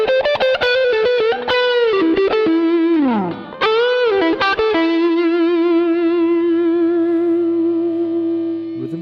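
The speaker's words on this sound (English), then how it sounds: "Now we're gonna dial in distortion." Electric guitar on single-coil neck pickup, a Coura Guitars Malindi 1, played through heavy distortion with a warm, rounded tone: a few quick riffing notes and bends, then a long sustained chord ringing out.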